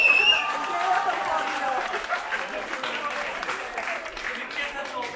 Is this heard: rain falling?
no